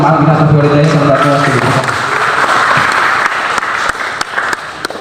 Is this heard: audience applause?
yes